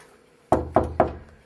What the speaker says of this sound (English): Little Red Riding Hood then came and knocked on the door.